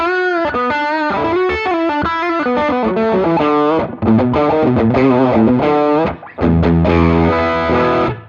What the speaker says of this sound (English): This is the boost side, kind of like another Tube Screamer.